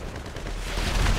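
Helicopter gunfire in the GTA 5 video game, a dense, continuous rattle of rapid shots with heavy low rumble, steady and loud throughout, no talk.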